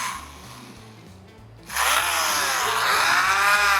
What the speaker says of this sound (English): I started cutting out the deck with this crazy Dremel tool that I bought on eBay.